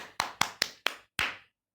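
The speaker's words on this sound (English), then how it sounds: "All of you clap for her." In a Class III classroom, a few children clap together for a classmate: five sharp, close claps in quick succession, the last one slightly longer, then silence.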